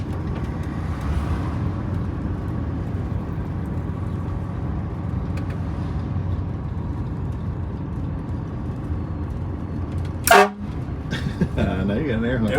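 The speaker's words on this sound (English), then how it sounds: "Now you got an air horn. It works." One short, loud air-horn blast from an MCI 9 coach bus sounds close by near the end, over a steady low rumble from the vehicle.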